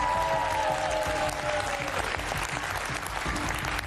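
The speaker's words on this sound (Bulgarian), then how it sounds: "Аплодисменти и за Ернестина" Studio audience applause on a Bulgarian VIP Brother 2015 reality show finale, a dense, loud wash of clapping that holds steady throughout, with a faint tonal sound fading beneath it early on.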